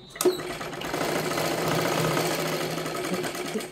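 Sewing machine stitching a katori blouse, starting with a sharp click and then running in a continuous, close, even mechanical whir until the end.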